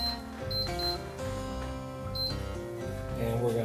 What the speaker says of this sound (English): I'm gonna get the air fryer set up